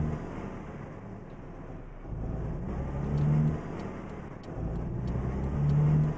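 A Mercedes LPS 1632 truck in Euro Truck Simulator 2 runs with a steady low engine drone that swells louder twice, with brief hiss bursts along the way, and no talking.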